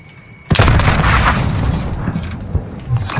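A frag grenade goes off in the Warzone shooter video game with one sudden loud boom. A rumbling, debris-filled tail fades over the next few seconds, and there is no talk.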